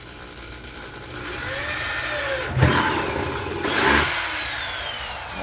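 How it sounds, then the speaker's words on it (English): Power drill with a 7/16 inch bit boring a hole near the center of a plastic pump sprayer, a steady whirring run rising in two louder bursts as the bit bites, close by with no talk. "Just drill a small hole and you're done with the drill."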